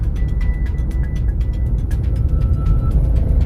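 Heavy road traffic with trucks and trailers passing rumbles steadily and loudly nearby, with a dense low drone and scattered higher clatter and tonal engine notes.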